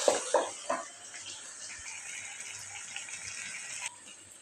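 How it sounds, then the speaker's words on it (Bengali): Water is poured into a pot of braised meat, a steady gushing hiss that runs near and fairly loud for about four seconds after a few quick knocks at the start. "এখন আমি সিদ্ধ হওয়ার জন্য পানি দিয়ে দেবো"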